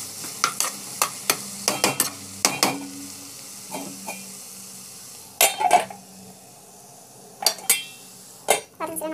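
Ingredients being stirred and sautéed in a pan, with repeated close scrapes and clinks of a spoon against metal over a low sizzle, coming in irregular bursts with brief pauses.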